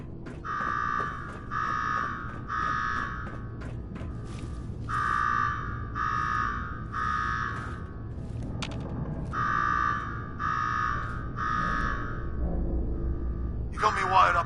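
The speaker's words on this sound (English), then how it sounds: "Now go shut off that damn alarm." A pulsing alarm blares in Fallout 4's Nuka-World, with short electronic tones repeating in clusters of three with brief gaps between them, loud and close over a low background rumble.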